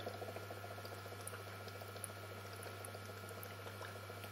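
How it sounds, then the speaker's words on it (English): Gas bubbles fizz from a stainless steel spiral HHO electrolysis cell running around 27 amps with electrolyte, a faint, steady bubbling and boiling-like patter over a constant low electrical hum. "Here it shows how the bubbles look like."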